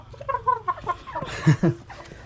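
Laying hens in a chicken coop give a close series of soft, rhythmic clucks, ending in a few louder, sharper calls.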